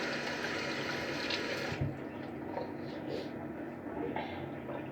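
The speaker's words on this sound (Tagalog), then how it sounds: "Hugas muna tayo ng kamay." Water runs steadily from a kitchen tap while hands are washed, a faint continuous hiss with small splashy shifts and no talking.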